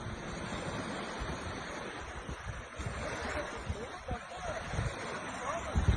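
Turkish shoreline with tsunami water surging in, a broad rushing wash of surf and churning water under strong wind buffeting the microphone, swelling louder toward the end while excited voices shout nearby.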